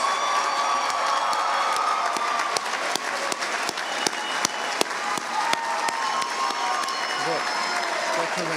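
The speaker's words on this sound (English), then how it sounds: "Please give them all one final round of applause." Graduation crowd at the Gulf Coast State College 2019 ceremony breaking into sustained applause and cheering, dense clapping with scattered whoops and shouts throughout.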